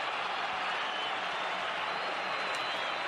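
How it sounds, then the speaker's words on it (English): Hometown fans at an Argentina vs Haiti football friendly applaud a Boca winger, a broad steady wash of crowd clapping and noise heard from a distance, with no talk over it. "getting an applause from the hometown fans"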